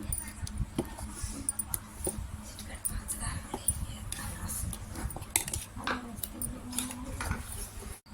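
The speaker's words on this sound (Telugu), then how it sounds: "పసుపు మొత్తం కలిసిపోయేటట్టుగా బాగా కలుపుకోవాలి" A spoon stirs jowar dosa batter with turmeric in a bowl, giving a string of light scraping clinks and wet knocks in an irregular rhythm while someone talks over it.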